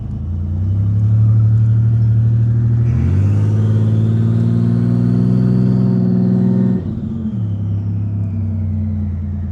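A 1980s turbocharged muscle car engine idles with a deep rumble, then revs up and holds a higher pitch for several seconds before dropping back to idle, loud and close with a faint turbo whine over the rev.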